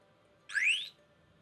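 A bicycle alarm sounds a single short, rising electronic chirp as it arms, fairly faint and heard alone against quiet background hiss.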